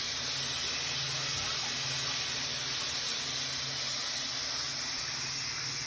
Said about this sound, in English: it's spraying. He just turned the water on so you could see right there at the elbow